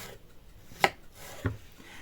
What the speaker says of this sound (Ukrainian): Нарізаю ось так всі яблучка.